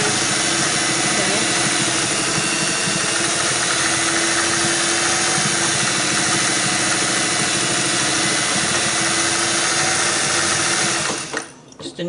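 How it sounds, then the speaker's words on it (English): A vintage Singer 403A sewing machine runs in reverse with a steady, fast mechanical whir and rhythmic needle chatter, close up, stopping abruptly near the end. "Alright, I'm going to go in reverse. Working fine."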